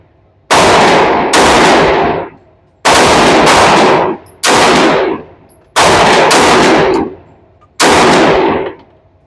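Pistol shots from an M&P Metal Carry Comp and a Sig P365 AXG at a range, six loud, sharp reports, some in quick pairs, each trailing a short echo.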